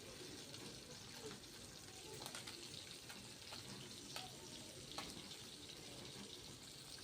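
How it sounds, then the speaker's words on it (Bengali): Tangra fish frying in oil in a wok-style pan on a stove, giving a steady, fairly quiet broadband sizzle throughout with a few brief sharper pops, no talk. "মাছ ভাজা হচ্ছে।"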